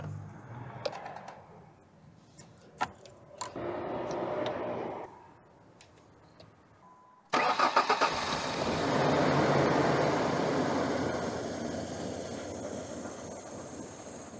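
A pickup truck's engine, its sensors unplugged, cranks and catches, then idles roughly and misses while running; after clicks and short bursts, a loud, steady engine rumble fills the second half.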